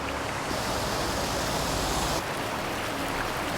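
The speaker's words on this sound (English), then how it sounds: "It sounds like the water's rushing pretty good." Water rushes steadily far down a riverbank below a highway crash site in winter, a loud, continuous broadband roar with no talking.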